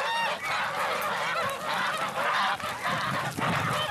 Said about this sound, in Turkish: Sıcak havaları sevmiyor kazlar.